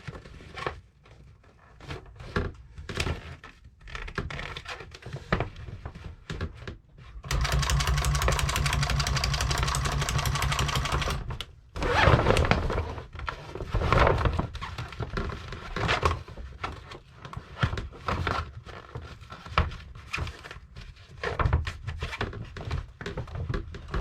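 A sewing machine stitching seam tape onto a boat sail, running in short bursts and one sustained whir, with thumps and rustling of the sail fabric between passes.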